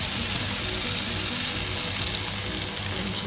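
Chopped fresh tomatoes fry in hot vegetable oil with a loud, steady sizzle and crackle. The hiss is continuous and heard alone, close up.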